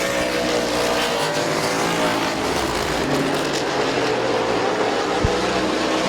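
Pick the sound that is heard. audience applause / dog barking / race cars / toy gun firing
race cars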